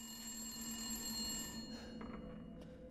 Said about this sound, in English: you don't pick up a phone before it rings